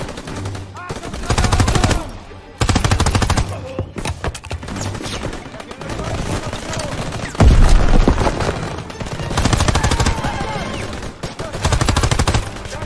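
Machine gun fire in the Call of Duty Frontline video game, loud sustained automatic bursts broken by short pauses, with booming gunshots over a constant battlefield din.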